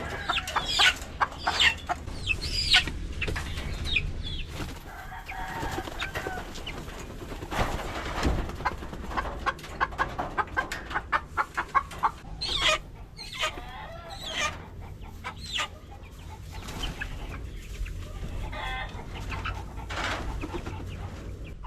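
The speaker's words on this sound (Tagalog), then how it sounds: "ito na yung mga manok mga kanaypi" Several chickens clucking and cackling close by in a coop, in irregular bursts over a low background murmur, with some louder squawks mixed in.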